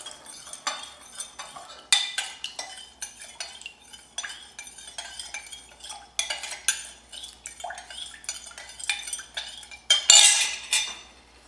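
A spoon stirring sugar into a bowl, with repeated clinks and scrapes of cutlery against the dish coming in irregular bursts, close and fairly quiet, no talk.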